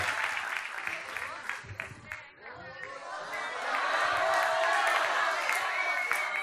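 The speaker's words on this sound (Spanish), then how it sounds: "¡Fuerte el aplauso!" Audience at a live talk show breaks into loud applause and cheering, the clapping swelling after a brief lull into a dense, sustained roar with shouts mixed in.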